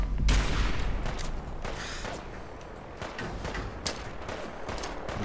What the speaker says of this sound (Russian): Звякают пули по броне.